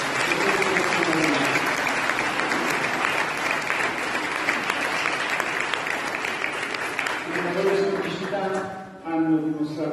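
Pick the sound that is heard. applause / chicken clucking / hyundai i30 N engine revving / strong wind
applause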